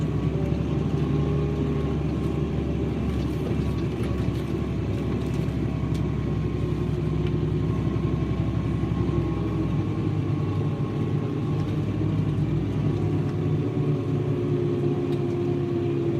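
A tractor with a CVT transmission pulls a vertical tillage implement across a field, its engine giving a loud, steady, deep droning rumble under strain that holds unbroken throughout, with no talking.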